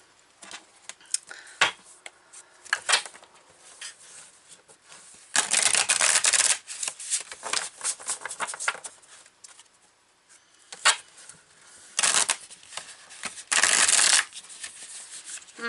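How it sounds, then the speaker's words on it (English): Tarot cards are shuffled in several loud riffling bursts, separated by quieter handling and soft taps of the deck. "They're hard to shuffle"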